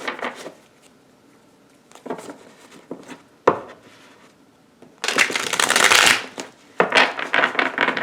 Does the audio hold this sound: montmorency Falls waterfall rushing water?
no